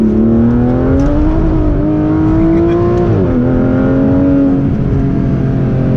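A 2017 Aston Martin Vanquish S sports car engine revs and accelerates steadily, its loud tone climbing in pitch, dipping briefly, then rising again, with no talking.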